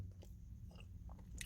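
Someone bites into and chews a Nature Fuel strawberry cheesecake keto mini bar, a few quick, crisp crunches close to the mic, brief and fairly quiet, with no talking.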